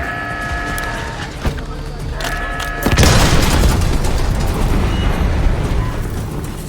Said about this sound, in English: Calling a mortar strike!